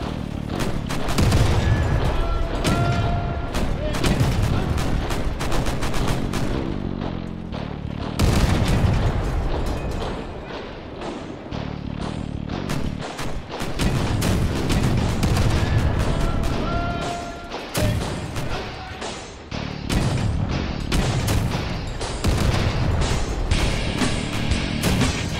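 Crossout combat vehicle built with Cyclone autocannons, Tsunami and Avenger cannons and Mammoth weapons firing in the game, dense bursts of rapid autocannon fire mixed with heavy cannon booms and crashes, loud and nearly continuous with brief pauses.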